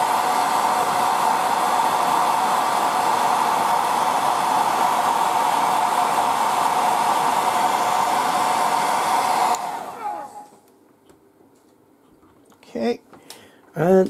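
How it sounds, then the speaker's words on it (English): A hair dryer blows loudly and steadily over airbrushed paint on a goblin miniature, then cuts off abruptly, leaving near silence with a few short voice sounds at the end. "now just give a little with the airbrush, with the dryer"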